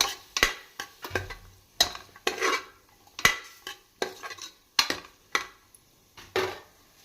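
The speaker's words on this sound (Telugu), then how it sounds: "ఈ అల్లం వెల్లుల్లి పేస్ట్ కూడా కొంచెం పచ్చి వాసన పోయే వరకు అలా ఫ్రై చేసుకుందాం" Ginger garlic paste fries in oil in a pan for a Nellore-style mutton curry, with a spoon stirring and scraping in sharp, irregular strokes over a faint background sizzle, close and alone.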